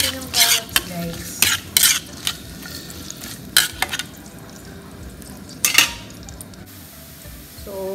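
Carrots stir-fried with softened onions in a pan for pancit canton, with a steady sizzle under repeated scraping spatula strokes and utensil clatter in irregular bursts, close and fairly loud, no talk.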